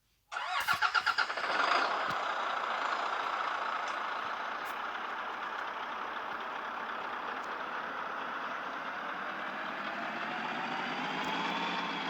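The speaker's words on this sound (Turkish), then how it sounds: "Tırımızı çalıştıralım." Truck engine starting in a truck driving video game: a brief cranking stutter catches into a loud roar that settles into a steady, even idle drone, with no talk.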